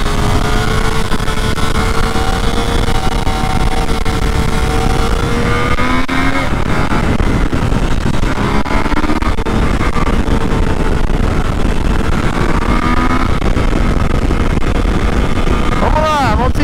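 A Yamaha Tracer 900 GT motorcycle engine revs and accelerates continuously on the Interlagos race track under strong wind buffeting, its pitch rising and falling as it climbs through gears.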